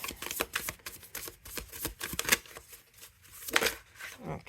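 Tarot cards are shuffled by hand, giving quick crisp riffles and soft flicking slaps in irregular bursts, close and fairly quiet.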